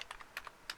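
Quick keystrokes on a computer keyboard, including Shift and Enter, about eight light, close clicks in an uneven rhythm, quiet and alone.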